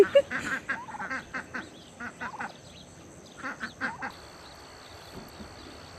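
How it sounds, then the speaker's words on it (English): Khaki Campbell ducks in a Kentucky garden give a run of repeated quacks in short irregular bursts, fairly close and moderately loud over outdoor background noise, with a brief pause before a few more calls near the end. "We have khaki Campbell ducks, and one of them has more orange on her legs."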